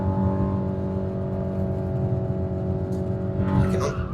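A Golf GTI MK7 Stage 3 rated at 450 cv on Pilot Sport 5 tires accelerates through a turn at a track day, its engine droning loud and steady from inside the car and swelling near the end, with a brief tire squeal or noise on top.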